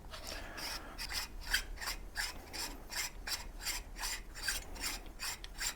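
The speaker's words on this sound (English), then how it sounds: "and I can start unscrewing the barrel." The long threaded barrel of an SSG96 rifle being turned out of its receiver, giving a repeated rasping, scraping metal-on-metal sound in regular strokes about twice a second, close and fairly quiet, with no voices.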